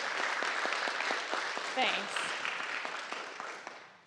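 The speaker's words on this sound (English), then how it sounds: "if we could give her a round of applause" An audience at a disability employment awareness summit claps together in a sustained round of applause. A voice speaks briefly over the clapping, which fades slightly toward the end.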